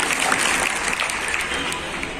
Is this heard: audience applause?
yes